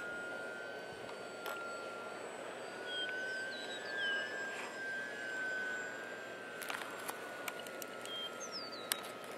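A model aircraft's engine drones steadily through a hard left turn at reduced throttle, a continuous tone that bends slightly in pitch over a constant background hiss, with no talk and a few faint clicks near the end.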